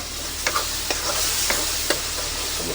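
Tomato paste is stirred into a frying masala in a truck cab, with a continuous sizzle and a few distinct scraping strokes of the spoon against the pan.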